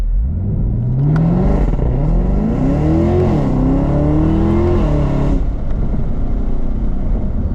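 A 2022 Camaro ZL1 accelerates on the road, its engine note climbing through two rising pulls with a brief shift between, loud and close from inside the car, then settling into a steady cruising hum.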